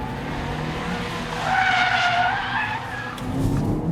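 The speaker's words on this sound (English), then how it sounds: "Handbrake turn around the cone." A car skids through a handbrake turn around a cone, its tyres squealing in a rising, wavering screech over the engine's roar, loud and close, with no voices.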